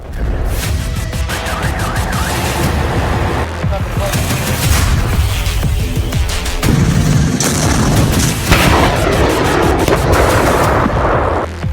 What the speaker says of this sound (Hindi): ये पुतिन की जिरकॉन मिसाइलों के धमाके हैं।